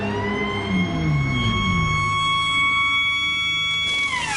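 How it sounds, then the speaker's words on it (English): Wailing emergency siren in a racing video game at Spa-Francorchamps during a GT3 series race, holding steady tones over engine rumble with a descending low engine note, loud and continuous. "Sirens heralding Avancino's arrival"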